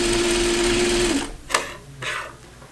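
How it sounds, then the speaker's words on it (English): A sewing machine runs gathering stitches along the top of a dirndl skirt, a steady close hum that stops partway, followed by a few small handling clicks and rustles. "I'm back at the machine because I'm going to do the gathering stitches at the top."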